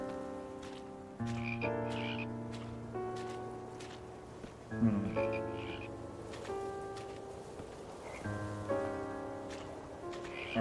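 Frogs croaking in a video game, with overlapping tonal croaks in irregular bursts over a soft ambient background, moderately close and with no talking.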